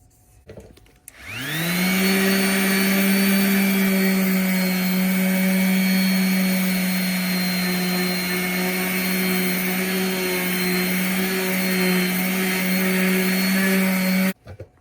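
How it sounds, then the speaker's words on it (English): An electric sander with a small pad spins up on a clear-coated factory aluminum wheel, a steady loud whine with a rising start, holding an even pitch for about thirteen seconds before cutting off. "I'm gonna use this little pad on the sander."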